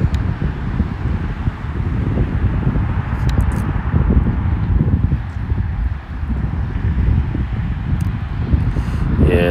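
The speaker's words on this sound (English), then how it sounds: "the wind is picking up a little bit" Loud, blustery wind buffets the microphone during a drone test flight outdoors beside a road, a constant low rumble throughout with faint rustling and a few high clicks.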